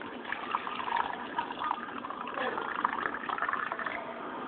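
Purified water pours and gurgles steadily, slightly muffled, while a person talks over it.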